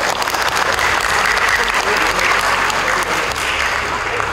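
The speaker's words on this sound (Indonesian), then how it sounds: "Tepuk tangan untuk Pak Wakil Rektor." An audience at a university event bursts into loud, dense applause for the vice rector, a sustained wash of many hands clapping close by that holds for several seconds before easing slightly.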